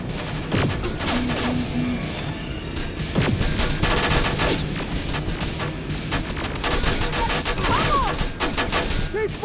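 Heavy gunfire in the Terminator: Resistance shooter game on PS5, sustained rapid bursts and rattling volleys against machines and turrets, loud and close, with shouted voices over the din.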